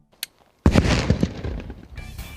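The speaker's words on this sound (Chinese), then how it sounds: "一声爆炸响起过后" A car rigged with 7.6 litres of gasoline on the passenger seat explodes in a single sharp, loud blast, then a rumbling, crackling tail slowly fades. A faint click comes before it.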